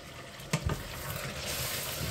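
Arbi (taro) and potatoes fry in a pan with a soft steady sizzle, broken by a couple of scraping stirs near the start.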